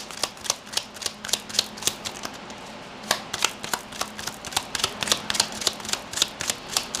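Tarot cards being shuffled up close, a steady run of crisp riffling snaps and slaps in quick bursts, loud and alone with no voices.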